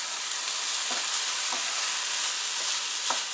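Shrimp fried rice sizzles steadily in a hot pan as soy sauce goes in, a continuous frying hiss broken by a few soft stirring scrapes.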